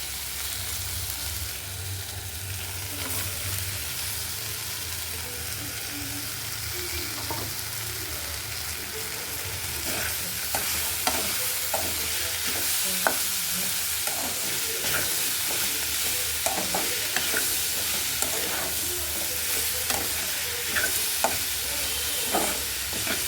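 Capsicum stir-frying in a pan for an egg and capsicum side dish, a continuous close sizzle with repeated scraping and stirring knocks that grow busier in the second half, no voices.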